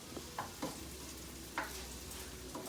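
Aubergine frying in oil, giving a steady soft sizzle, with a few light scraping stirs and taps over about three seconds, faint and close, with no voices.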